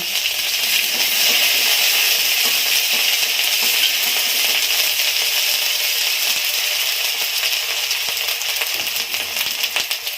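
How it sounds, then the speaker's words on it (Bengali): Onion, garlic and ginger paste frying in hot oil, giving a steady close, loud sizzle with a crackling hiss throughout and a few faint clinks of utensils. "আমি দেবো তেলে পেঁয়াজ বাটা, রসুন বাটা, আদা বাটা"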